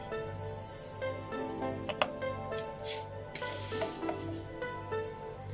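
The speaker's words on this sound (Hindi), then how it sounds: "तो कुकर में हमने ऑयल ऐड कर दिया है। ठीक है, अब इसमें हम डालेंगे हींग" Asafoetida dropped into hot oil in a pressure cooker sizzles and fries steadily, with a low rhythmic hum, a faint clink or two and a brief louder crackle partway through, no talking.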